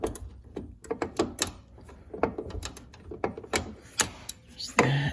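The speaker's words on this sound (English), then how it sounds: "I was able to get my ratchet from underneath on the back side." A ratchet works on a tight lower door hinge bolt of a 2007–2013 Chevrolet Silverado, giving a series of sharp metallic clicks and clacks in uneven bursts, close up, with a heavier knock near the end.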